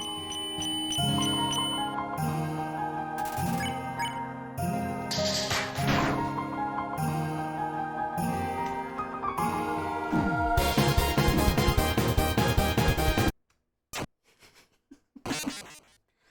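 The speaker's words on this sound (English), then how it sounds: "I also like the little jingle bell sound on here in this song" Undertale soundtrack music with a bright, tinkling jingle-bell texture riding over a steady rhythmic backing, the melody continuous and loud before cutting off abruptly near the end into short scattered bursts.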